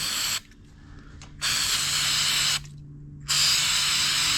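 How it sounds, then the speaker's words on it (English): Three long hissing bursts from a can of degreaser sprayed on a Harley-Davidson Pan America motorcycle during an oil change, close and loud, separated by short pauses. "get your degreaser and spray all that around there to get rid of all that oil"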